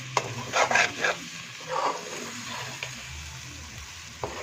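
A spatula scrapes and stirs an egg mixture in a pan with several soft clattering strokes, then quieter stretches over a gentle sizzle and low background hum, with one more brief scrape at the end.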